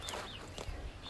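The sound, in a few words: chickens clucking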